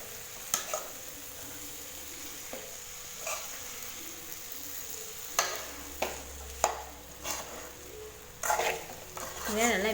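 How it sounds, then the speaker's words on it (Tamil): Cauliflower fries in a pan with masala, a low sizzle under scattered scraping stirs and clinks of a spoon against the pan, close and moderately quiet, with no talk. "இதை நல்லா மிக்ஸ் பண்ணிவிட்டு வதக்கி விட்டுருங்க மசாலாவோட காலிஃப்ளவரை."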